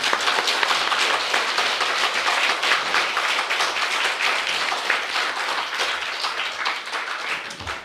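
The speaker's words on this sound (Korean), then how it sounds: "박수 한 번 하나님께." A church congregation at a seminar breaks into sustained, even clapping, a steady dense patter of many hands heard at moderate loudness with no voices over it.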